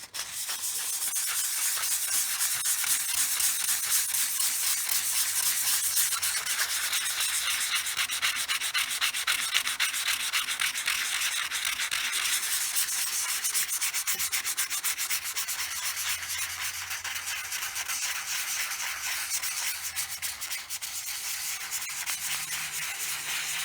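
Steady dry rubbing of 220-grit sandpaper on a scratched Honda Fourtrax ATV plastic dash, a close continuous hiss with rhythmic back-and-forth strokes and no talking.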